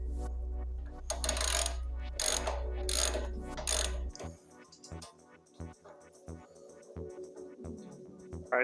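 A ratchet tightens nuts during a Barnes 4WD Pritchett Canyon rear bumper install on a Jeep JKU: first several fast, rasping bursts of ratcheting, then a slower run of distinct, evenly spaced clicks, close and clear.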